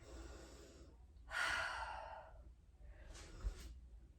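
Yoga instructor breathing during a vinyasa cardio flow, a soft airy exhale followed by a louder, rushing breath and a shorter breath near the end, close and quiet with pauses between.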